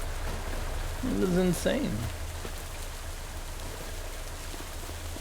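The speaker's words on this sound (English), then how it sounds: "It just kept freaking raining." Steady rain falls on a farm, a constant hissing wash of drops, with a brief spoken remark near the start.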